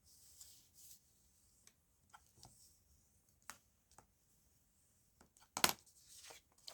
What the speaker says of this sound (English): Now I'll give that a nice burnish, and that should help that washi tape really stick down.